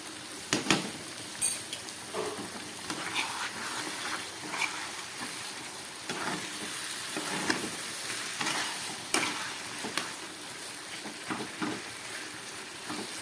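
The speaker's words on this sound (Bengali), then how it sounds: "খুব ভালো করে আমি এই মশলার জলটা দিয়ে এবার এই চিকেনটাকে কষিয়ে নেব" Chicken being cooked down in spiced water in a pan while a spoon stirs it, giving a steady sizzle with scraping strokes and small clinks that continue for the whole stretch, close and moderately loud, with no talking.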